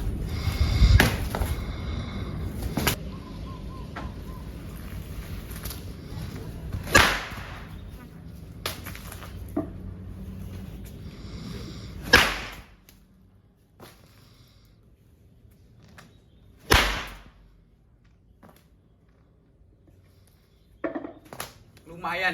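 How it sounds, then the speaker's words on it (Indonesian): Red handmade pecut whip cracked outdoors, several sharp, loud snaps spaced a few seconds apart, with quieter rustling and a faint voice between cracks. "Nah ini langsung kita coba aja pecutnya gimana."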